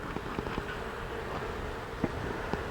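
Honeybees from an opened hive colony during beekeeping, a close, continuous low buzzing drone with a few faint soft knocks and taps over it.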